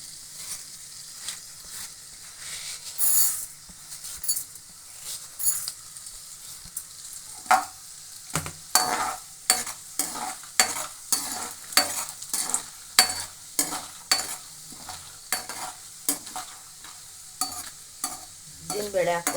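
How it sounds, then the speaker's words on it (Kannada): Urad dal fries in a hot pan, a soft sizzle under a run of close, rhythmic stirring scrapes that grow more regular as it goes on. "ನಾನಿವಾಗ ಉದ್ದಿನಬೇಳೆ ಹಾಕ್ಕೊತಾ ಇದ್ದೀನಿ"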